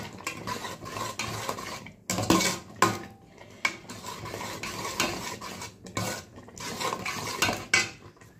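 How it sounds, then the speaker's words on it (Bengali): Mustard, spinach and fenugreek greens are stirred continuously in a pan, with repeated metal spatula scrapes and clanks against cookware over a faint sizzle, close and rhythmic with no speech. "নেড়েই যাচ্ছি সমানে, কন্টিনিউয়াসলি নেড়ে নেড়ে শাকটাকে একদম"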